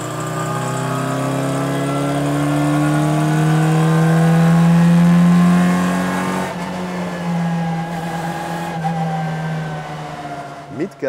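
A restomod rally Mini's OHV iron-block engine revs hard toward 8500 rpm on a race track, a loud, close, rising wail that holds high, then eases off with shifting pitch near the end.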